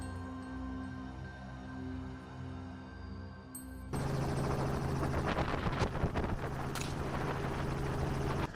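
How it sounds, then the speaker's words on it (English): A helicopter overhead during a wild boar hunt, its steady rotor thump and engine drone loud and continuous, growing even louder and closer about halfway through, with wind rushing over the microphone. "He signals the pilot and the helicopter descends."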